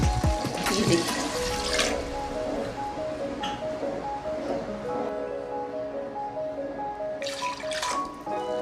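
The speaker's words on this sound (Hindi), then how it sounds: "अब हम इसमें 2-3 गिलास पानी डालेंगे।" Water poured from glasses into a pot of beef nali nihari after the rogan has been skimmed off, a steady close splashing and trickling that runs for several seconds, with a brief second pour near the end.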